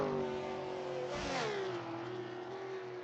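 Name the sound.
racing car engine revving to top end, onboard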